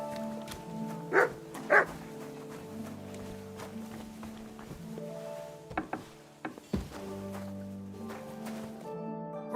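A dog barks twice in quick succession, sharp and fairly close, over an ongoing musical background, followed later by a few softer yips and thumps.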